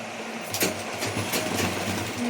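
Domestic sewing machine stitching fabric, a steady mechanical whir with rapid needle chatter, fairly close and continuous throughout with slight surges in speed.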